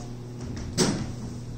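A door being shut and locked in a room: one firm thud with a brief rattle, close by, over a steady background hum and no talking.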